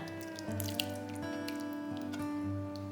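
Spaghetti sauce is poured over noodles and mozzarella cheese in a baking dish, giving soft wet squishing and dripping sounds over a faint steady background hum.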